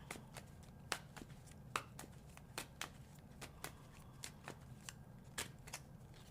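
Tarot cards shuffled by hand, a crisp, regular run of sharp riffling snaps close up, repeating about every half second over a faint background hum.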